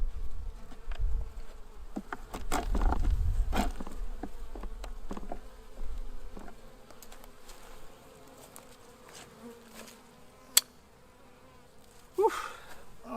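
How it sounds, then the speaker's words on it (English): Bees from a queenless colony with laying workers buzz steadily in a close, droning hum, with a few brief knocks and rustles along the way. "sad little bees that lost their queen and are turning into laying workers"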